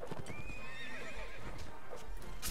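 In the medieval combat game Mount and Blade: Warband, a horse gallops with rapid clip-clopping hooves while a long whinny rises over the din of a multiplayer battle, loud and dense.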